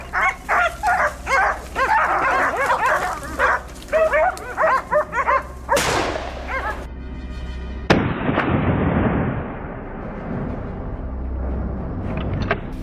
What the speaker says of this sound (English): The barking of the hunting dogs led me to another thick bush.